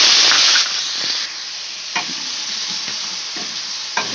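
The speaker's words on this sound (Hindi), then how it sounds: "इस तरह से चलाते हुए इसको भून लेना है अच्छे से" Masala paste fries in a pan with bay leaf, cinnamon and green chilli for a potato and chickpea curry: a hard hiss at first settles into a steady sizzle, with spatula scrapes recurring about every second.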